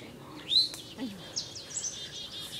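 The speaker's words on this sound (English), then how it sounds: "That's the oriole singing over there." An oriole sings from a tree among many other birds outdoors: a few short, bright chirps and whistles at moderate distance, scattered across a couple of seconds over a soft background hiss.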